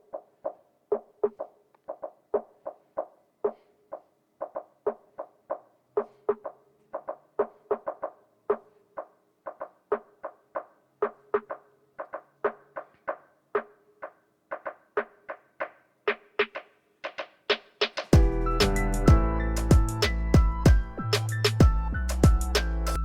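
Instrumental hip-hop beat intro built from sparse, evenly spaced percussive hits whose filter slowly opens and brightens over about eighteen seconds, then a full, dense mix with heavy bass bursts in as the chorus lands.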